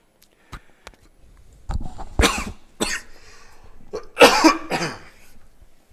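Several coughs and throat clears, close and loud into a headset microphone, come in irregular bursts with short quiet gaps between them.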